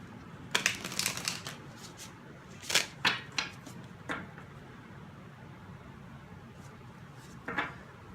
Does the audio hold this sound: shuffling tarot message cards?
yes